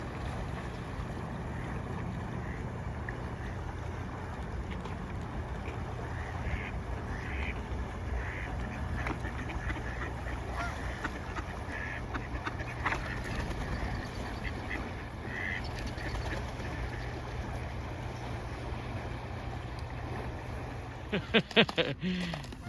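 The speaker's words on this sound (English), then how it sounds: "There are some really cute looking ducks here." Ducks quack faintly now and then over a steady outdoor rumble of wind and water on an icy Michigan lake, with a few louder knocks near the end.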